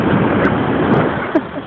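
Ocean surf washing in at Luan Beach, a steady loud broadband rush of breaking waves with wind across the microphone, swelling briefly near the end.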